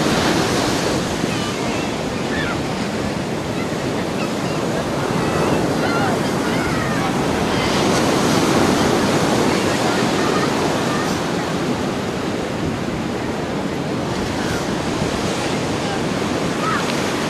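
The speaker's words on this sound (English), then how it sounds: "the tide is coming right up now to the corner of the beach, up to the rocks" Sea waves wash steadily up a Cornish beach at high tide toward the rocks, a continuous close roar of surf with gentle swells in loudness, some wind across the microphone, and no talking.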